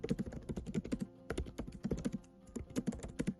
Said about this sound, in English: the keys for the keyboard do have quite a satisfying tapping sound.